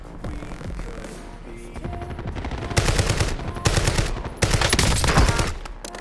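Automatic gunfire rattles in Call of Duty Warzone, with rapid bursts of shots that grow denser and louder into heavy overlapping volleys.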